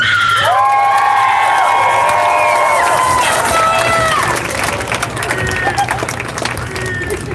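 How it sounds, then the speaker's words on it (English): A crowd at a climate strike rally cheers and whoops loudly, with clapping and shouts that gradually settle into a noisy murmur. "Please give me a big round of applause"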